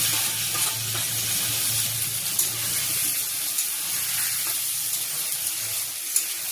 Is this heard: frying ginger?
yes